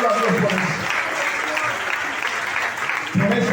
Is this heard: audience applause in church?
yes